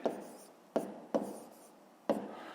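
Close pen-on-paper writing as the answer to a fifth-grade math problem is jotted down, four brief scratching strokes spaced unevenly, with no voices.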